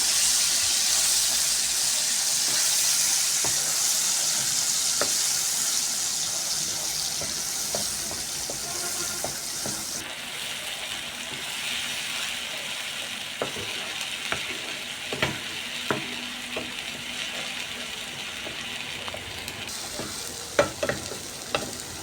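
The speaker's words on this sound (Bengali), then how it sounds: "ওই তেলেই হচ্ছে আমার যে বাটা মশলাগুলো ছিল সেইগুলো দিয়ে কিছুটা সময় আমি ভেজে নেবো" Ground spice paste fries in the oil left from frying fish for a coconut prawn dish, giving a steady close sizzle with occasional stirring scrapes and small pops that grow louder near the end.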